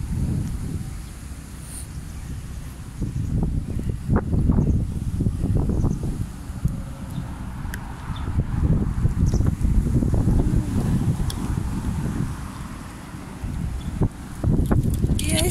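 Wind gusts buffet the microphone in a park during cherry blossom season, a low rumbling roar that swells and eases in waves, with faint rustling and a few soft knocks underneath.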